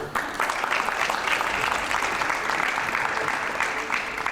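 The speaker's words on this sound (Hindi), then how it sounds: "तालियां थोड़ी कम आ रही है" Steady applause from a live event audience, a continuous wash of clapping at moderate volume that carries on without a break.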